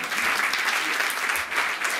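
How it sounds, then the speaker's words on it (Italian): Audience applause at a student music recital in Deliceto, Italy, many people clapping in a dense, continuous burst, fairly loud and close, with a brief dip midway before the clapping swells again. "quindi un applauso!"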